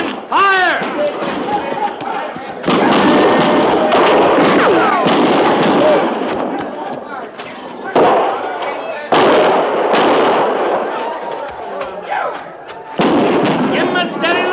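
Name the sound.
gunfire sound effect in radio drama battle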